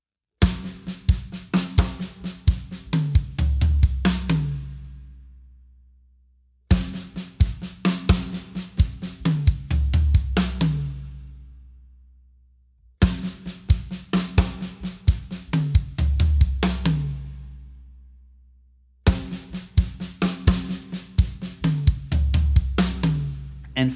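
The first three beats of a triplet fill played on a drum kit, repeated four times: rapid tom and snare strokes tumbling downward, each pass closing with a low, sustained cymbal and bass hit that fades out.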